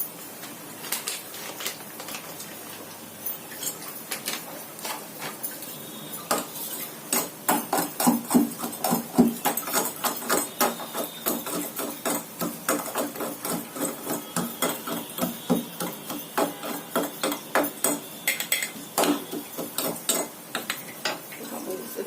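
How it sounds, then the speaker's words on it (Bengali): Cashews being crushed in a mortar and pestle for potoler dorma, a stuffed pointed gourd dish; sharp repeated pounding strikes start sparse, then settle into a steady, fairly close rhythm. "হামান দিস্তাতে গুঁড়িয়ে একটু কাজু দিয়ে দিচ্ছি"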